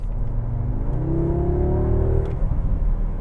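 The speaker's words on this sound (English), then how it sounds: "It totally sounds like a 5-cylinder engine." A 2022 Audi S3 engine revs up with a five-cylinder sound, its throaty, warbling tone rising in pitch over a steady low rumble, close by.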